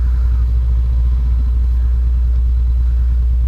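2019 Honda CB500X motorcycle rolling at idle while the clutch is worked, a loud, steady low engine thrum with a rapid, even pulsing beat, close to the microphone, no talk.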